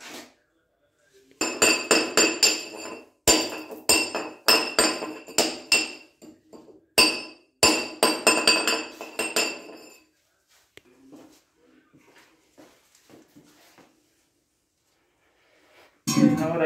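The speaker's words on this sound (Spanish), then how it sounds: "todos estos bordes de cemento que le quedaron, pues vamos a quitárselos con un cincel" A chisel chips leftover cement edges around a toilet base in a bathroom, with rapid sharp metallic strikes in clustered bursts, close and loud, then a quiet stretch with faint scraping and a final hard knock.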